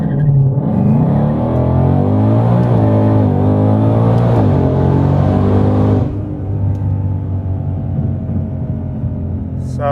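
A 2022 Heritage Edition Track Pack car does a burnout, its engine roaring loud and close with revs rising and wavering for several seconds. The roar then drops to a lower, steadier rumble.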